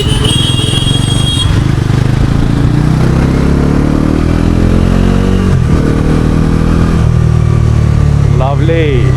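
A 2025 Bajaj Pulsar NS 400 motorcycle is ridden, its exhaust giving a loud, steady engine drone that rises and falls in pitch, with wind rush throughout and a voice speaking over it near the end.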